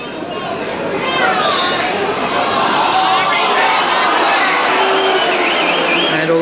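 Football crowd at a 1983 National Soccer League match between Newcastle KB United and Preston, a broad loud murmur of discontent filling the stadium throughout, with a commentator talking over it.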